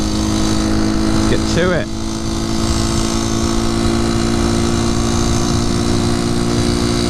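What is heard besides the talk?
1973 Honda C90 motorcycle engine revving through gears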